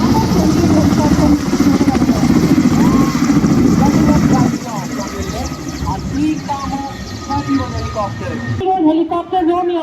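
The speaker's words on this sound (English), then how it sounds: "Now appearing in front of us is the Kamo 28 helicopter" A Kamov 28 naval helicopter flies past at a seaside fleet review parade, its steady loud rotor and engine drone filling the scene as a commentator talks over it throughout, the roar shifting and thinning toward the end.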